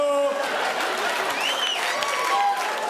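Audience at a stand-up comedy show clapping steadily, a dense wash of applause and crowd noise filling the whole span, with a few scattered voices and whoops mixed in.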